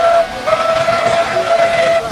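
A steam engine whistle sounds loud and close in a sustained, slightly wavering tone that lasts the whole moment.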